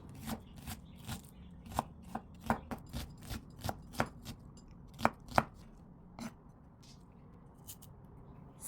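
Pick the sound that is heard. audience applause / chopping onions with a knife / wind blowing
chopping onions with a knife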